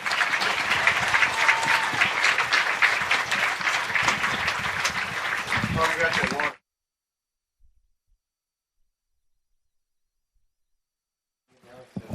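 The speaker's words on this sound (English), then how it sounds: "Give them a round of applause." A high school football crowd applauds fall sports seniors on senior night, with sustained outdoor clapping and cheering for about six seconds, then an abrupt cut to silence before faint sound returns.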